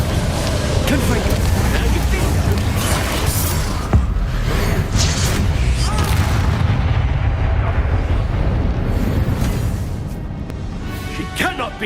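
Confringo spell blasts go off in a Hogwarts Legacy fight, loud repeated bursts and booms in a dense barrage, with a voice shouting spell names over the fighting.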